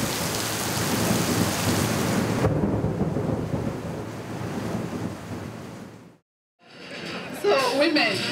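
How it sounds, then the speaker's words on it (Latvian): Heavy rain shower pours down steadily near a rainforest in Cameroon, with thunder rumbling through the loud downpour before the sound briefly drops away and returns. "Lietus meža tuvums katru vakaru izraisa neticami spēcīgas lietus gāzes"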